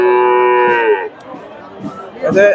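Young Friesian cattle at a busy cattle market in Bogura moo loudly and close, one long sustained call in the first second followed by fainter market noise and another strong moo near the end.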